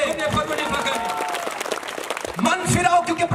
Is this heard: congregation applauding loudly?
yes